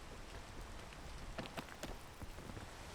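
Rain falls in a video game as a faint, steady patter of scattered droplets, with a few slightly louder taps near the middle and no talking.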